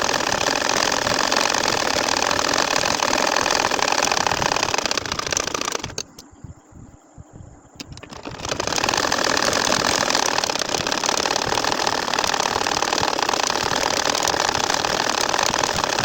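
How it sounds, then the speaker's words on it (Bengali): Electric sewing machine stitching a baby quilt (kantha), running loud and steady with a dense rattling whir, stopping briefly for about two seconds before resuming at full speed. "এখন এর সাইড দিয়ে আবারও কিন্তু হাফ ইঞ্চির মতো করে আমাদের সেলাই করে যেতে হবে।"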